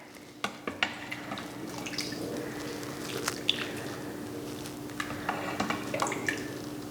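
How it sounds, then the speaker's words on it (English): Broth from braised short ribs made in an Instant Pot is spooned over a plated dish, giving soft drips, wet squishes and light spoon-against-dish clinks at close range, with no talking. "I'm gonna scoop some of this delicious broth all over it."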